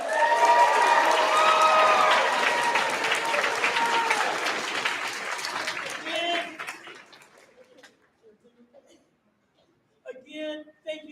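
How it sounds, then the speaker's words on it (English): An audience at a university honor band concert applauds a high school soloist, loud sustained clapping that fades out, followed by a voice speaking. "give a hand to Cooper Gibson."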